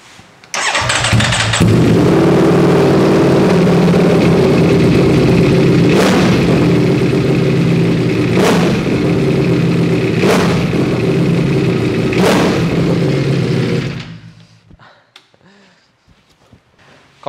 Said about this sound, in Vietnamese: sẽ nổ máy cho mọi người nghe cái âm thanh của cái bô này nha